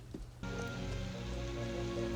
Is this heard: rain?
yes